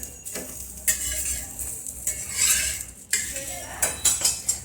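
A spinach and paneer paratha is flipped on a hot pan, with close scraping and clinking of a spatula against the metal over a low, steady sizzle and several sharp bursts of contact.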